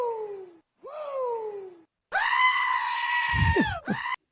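Goats screaming loudly and close by, several long wavering bleats one after another, the last a drawn-out harsh scream with a brief low rumble beneath it.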